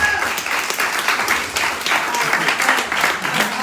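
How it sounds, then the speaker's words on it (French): A church congregation applauds loudly and steadily during a French-language sermon, dense clapping filling the whole stretch with a few cheers or voices mixed in. "Acclame encore pour lui. Très très fort."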